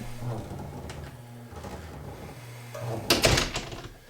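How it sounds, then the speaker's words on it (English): A HomeKit-triggered automatic door closes with a mechanical motor whir, and a louder clunk lands near the end as it shuts, fairly close with no talking. "you simply just go into HomeKit, hit the trigger, and the door is automatically going to close."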